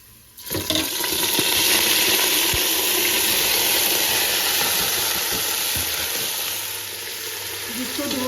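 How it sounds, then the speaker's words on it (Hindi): Washed soya chunks and potatoes drop into a pan of browned garlic and set off a loud, steady sizzle that holds throughout, with faint stirring clatter beneath. "अब इसमें डालूँगी मैं ये सोया आलू जिसको मैंने अच्छे से धो के"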